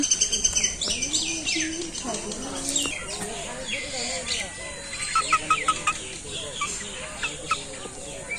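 Village chickens cluck and small birds chirp repeatedly on a rainy day, moderately close, with a bright rooster-like call early on, while people talk nearby.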